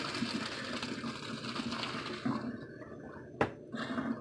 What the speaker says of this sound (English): Dumping them out, straining them.